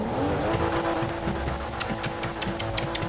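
A revving modified Tofaş Şahin car engine in the video game GTA 5 roars steadily, with a string of sharp high bursts near the end, like tires squealing or gears shifting.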